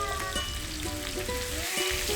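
Coarsely blended chili goes into a pan with sliced tomato and fries in a steady, close sizzle, with faint stirring clinks running underneath.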